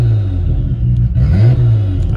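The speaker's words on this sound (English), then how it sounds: "That's just me barely touching the gas." A Nissan Skyline R32 GTR idles loudly with its exhaust cutout open, giving a deep, steady rumble with a slight throttle blip that swells the burble midway.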